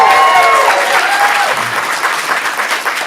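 Audience applause for a stand-up comic at a student stand-up showcase, loud and dense from the start, then easing slightly while it keeps going steadily to the end, with a few whoops and cheers in the opening moments.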